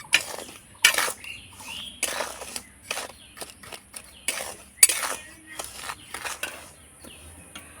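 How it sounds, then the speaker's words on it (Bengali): Salt is stirred in a pan over high heat, with a spatula scraping in irregular gritty bursts and clinks of metal against the pan, close and fairly loud, alone without talk. "এবার হাই হিটে লবণটাকে নাড়াচাড়া করে গরম করে নিতে হবে।"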